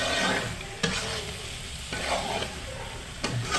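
Chicken in masala is stirred in a pan or clay pot with a faint sizzle of oil, broken by a few soft scraping strokes at an even pace, quiet and close, with no voices.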